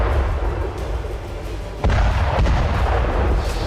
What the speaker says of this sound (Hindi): रूसी फौज यूक्रेनी पोजीशंस पर फास्फोरस बम से हमला कर रही है।